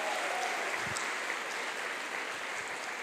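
Applause from a church congregation at a sermon, a dense, steady wash of many hands clapping together, continuous and fairly even for a few seconds, with no voices over it.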